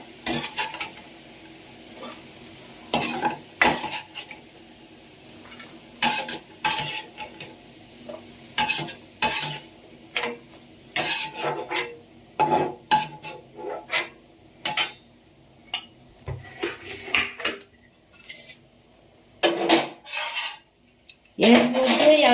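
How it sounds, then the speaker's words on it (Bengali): Fried potatoes are lifted out of a frying pan while preparing lemon rice, with repeated sharp scraping and clinking of a utensil against the pan over a low, steady sizzle of oil, no talking. "আমি আলু ভাজাগুলো তুলে নিচ্ছি।"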